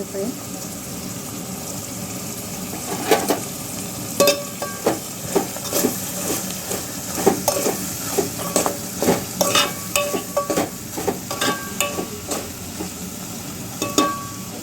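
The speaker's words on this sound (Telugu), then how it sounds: "ఇవి ఆయిల్లో మంచిగా మగ్గాలండి" Boti pieces fry in hot oil for a curry, a steady sizzle broken by repeated scraping stirs of a spoon against the pan, with a voice speaking over the cooking.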